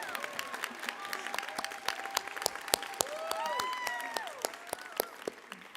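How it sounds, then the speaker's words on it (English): An audience claps steadily throughout a 2024 USC School of Dramatic Arts commencement ceremony, with dense sharp hand claps and a few voices, cheers or whoops rising over the applause. "Oh, sure, we can applaud."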